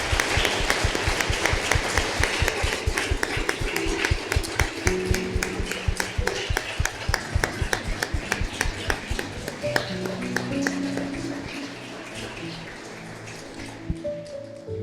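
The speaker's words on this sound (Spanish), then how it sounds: "Vamos a dar un aplauso al Señor," A church congregation applauds in praise, a rapid rhythmic run of claps that fills the room, steady and fairly loud before thinning out near the end as a few faint tones linger underneath.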